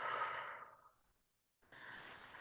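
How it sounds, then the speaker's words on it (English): A slow, deep breath out, a close airy sigh that fades over about a second into silence before a second soft breath sound begins. "Take a deep breath in and a slow breath out."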